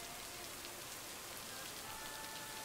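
Rain falls steadily in a farming video game, a soft, even hiss of drops on surfaces that stays constant and faint throughout, with no talking.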